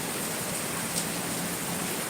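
A heavy downpour in Johor Bahru, Malaysia makes a steady, even roar of rain, broad and unbroken from start to finish, with no voices over it.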